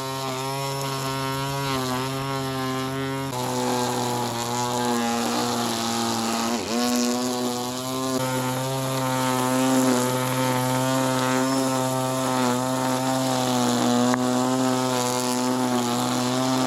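A VARSK 20V 12-inch cordless string trimmer edges a lawn, giving a steady, loud high-pitched motor whine with a strong harmonic hum that dips briefly midway and then holds constant, up close and with no talking.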